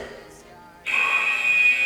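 Workout interval timer buzzer in a 25-minute dumbbell core session, sounding one loud sustained electronic tone that starts abruptly after a brief quiet moment and holds steadily to the end.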